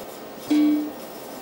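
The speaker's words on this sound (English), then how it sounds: "The noises you can hear, the bongs you can hear, are made by the Digigrade grading computer." A single soft electronic bong from a Digigrade film grading computer, a short steady tone that rings briefly and fades, over a faint background hum.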